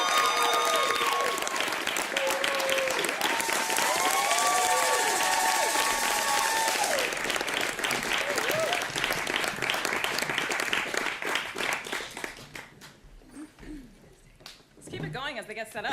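A live Bomba night crowd claps and cheers to welcome Dizzy Jenkins and her Bomba group to the stage. Dense, loud sustained applause with whoops and voices mixed in, thinning out near the end.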